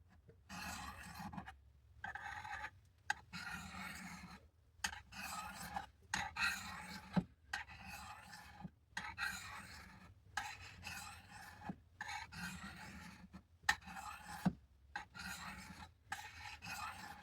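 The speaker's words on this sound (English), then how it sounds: "Spyderco Sharp Maker to sharpen that top edge there" Rhythmic rasping strokes of a WW2 vintage M3 knife's top edge drawn across the ceramic rods of a Spyderco Sharpmaker, repeated steadily in short bursts with brief pauses between, close and clear with no talking.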